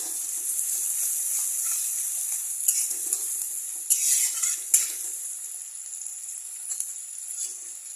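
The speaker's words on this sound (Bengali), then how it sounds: "পেঁয়াজটা 1 থেকে 2 মিনিট এটাকে একটু নাড়বো, হালকা ভাজা হবে পেঁয়াজটা।" Onions stir-fried lightly in a pan for masala mutton give a steady, close hiss of sizzling, broken by a few brief scrapes and clatters of the spoon against the pan.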